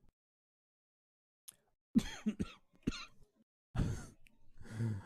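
A man breaks into a coughing fit at a shooting event: several harsh, rough bursts close to the mic, with a short pause between a first cluster and a heavier second round, and no talk over them.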